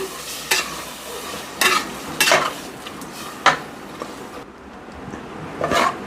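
Tamarind juice is stirred into a pot of drumstick sambar with toor dal, the spoon scraping and clinking against the pot in irregular strokes over a soft simmering hiss.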